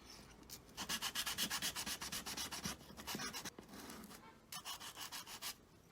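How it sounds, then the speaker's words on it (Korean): Sandpaper rubbing back and forth on wood in quick, regular strokes, in two bursts with a brief pause between, close and fairly quiet. "사포로 열심히 갈아볼게요"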